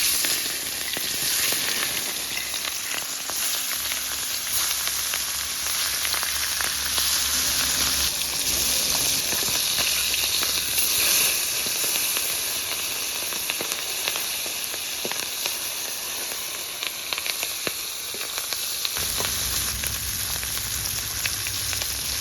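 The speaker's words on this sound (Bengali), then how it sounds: "তেল ভালো করে গরম করে নিয়েছি এবার তেলে মাছগুলো ছেড়ে দেবো" Bata fish frying in hot oil for a potato curry, a steady dense sizzle and crackle running throughout with a brief low rumble near the end, loud and close with no talk.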